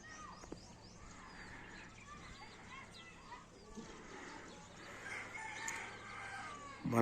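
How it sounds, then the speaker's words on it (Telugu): In a village in the early morning, a rooster crows faintly in the distance amid soft chicken clucks and other birds, with quiet background murmur. "మనకి కోళ్ళు పక్షులు సపోర్ట్లు అయితే ఈ హైదరాబాద్లో అయితే వినిపించవు."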